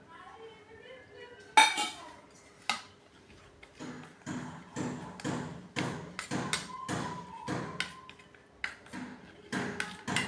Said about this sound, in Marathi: एक ते दीड चमचा तांदळाची पिठी आपण यात टाकून छानपैकी मिक्स करून घ्यायचं आहे